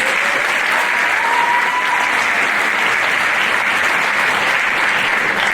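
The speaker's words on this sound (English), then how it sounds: "Round of applause for Tux Express." Loud, dense applause from a high school pageant audience, sustained evenly throughout without letting up.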